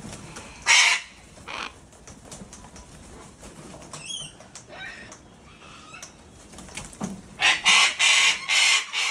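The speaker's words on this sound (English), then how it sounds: "33 cockatoos." A flock of 33 cockatoos sheltering under a roof from the rain, giving loud bursts of harsh squawks and screeches that come and go, clustering thickly toward the end.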